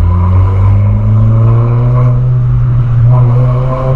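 A Volkswagen Polo engine revs hard with a steady, loud low roar that rises and holds, close by, with no talking.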